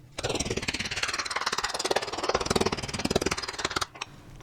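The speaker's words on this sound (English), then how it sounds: "put it between 2 pieces of plastic wrap and then pound it with a wooden mallet" A wooden mallet pounds chicken between two sheets of plastic wrap in a kitchen, a rapid run of loud, close thuds lasting several seconds before stopping.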